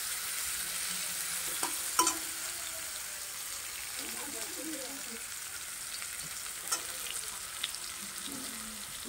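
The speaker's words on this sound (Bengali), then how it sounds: "আলুটাকে ভাজি করে দিয়ে নিই" Potatoes frying in a pan before cooking turtle meat curry: a steady, quiet sizzle of hot oil with occasional stirring clinks and scrapes, close by.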